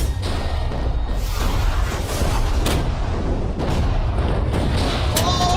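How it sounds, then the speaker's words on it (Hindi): Heavy, continuous booming and rumbling from a big explosion in the video game Minecraft, dense and loud throughout with repeated thuds and crackling bursts layered over one another. "तेज धमाका था"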